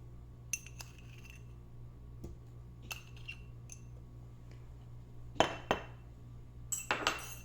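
Salt is spooned into glass canning jars for pressure-canned green beans, giving sparse, sharp metal-on-glass clinks and taps, close and clear, with a louder cluster of clinks near the end over a faint steady hum.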